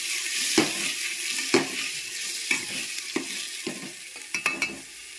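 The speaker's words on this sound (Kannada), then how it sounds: "ಟೊಮೆಟೊ ಹಣ್ಣು ಒಂದು ಸ್ವಲ್ಪ ಎಣ್ಣೆ ಒಳಗೆ ಫ್ರೈ ಆಗಿ" Chopped tomatoes frying in oil in a pan, a steady close sizzle broken by several sharp scraping stirs at an uneven pace, with no voices.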